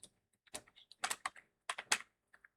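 Keys clatter on a computer keyboard in quick irregular bursts of clicks, close and fairly quiet, with short pauses between clusters of keystrokes while entering text for an HTML page. No one speaks.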